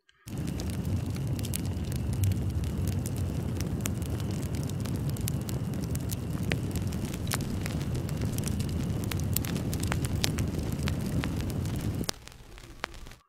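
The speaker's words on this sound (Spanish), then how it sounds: "quiero hacerle eh, el crepitar de la llama" A crackling fire sound effect layers a dense, steady roar of flame with sharp, irregular pops and snaps throughout, then drops to a thinner crackle just before the end.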